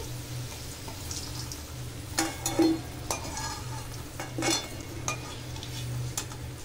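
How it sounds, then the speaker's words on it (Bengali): Potatoes with a little turmeric frying in a pan, a soft steady sizzle broken by a few scraping stirs and clinks of a spatula against the pan, fairly quiet and close. "আলু কটা খুব লাল লাল করে ভেজে নেব"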